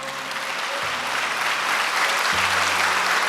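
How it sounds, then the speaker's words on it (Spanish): Steady, dense applause from a crowd, loud and continuous throughout with no voices on top. "Ahora sí, dale un aplauso a Él."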